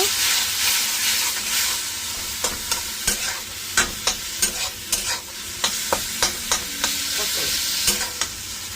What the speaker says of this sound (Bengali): তো আমি এখন একটুখানি চার মগজ দেবো এবার আবার কষিয়ে নেব